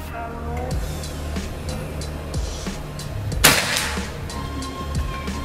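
A single sharp PCP air rifle shot cracks out once, loud and close, during an accuracy test, over a steady low background hum with faint murmuring.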